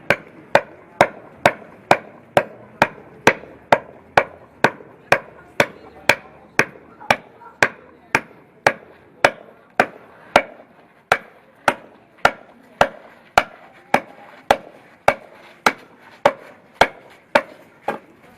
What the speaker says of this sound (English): Some people call it a hammer adze because you use it like a hammer